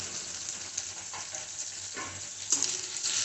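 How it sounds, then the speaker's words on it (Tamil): Food frying in oil in a covered pan, a steady, soft hiss and sizzle throughout, close but faint, with a few small pops and a slight bump near the end, no talking. "அது எண்ணெயிலே வேகட்டும்"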